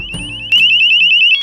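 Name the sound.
Braumm Wi-Fi door and window sensor alarm sounding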